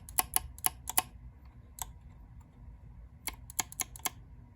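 A Fanatec sim-racing gear shifter clicks sharply as it bottoms out against an adjusted set screw. Crisp, close, light clicks come in quick clusters with a pause between groups over a low steady hum.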